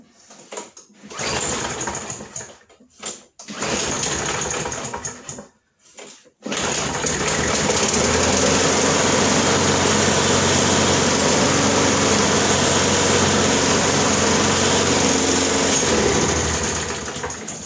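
A Viking MB505 lawn mower engine sputters through a few brief starting bursts, then catches and runs as a loud, steady, high-pitched drone close by.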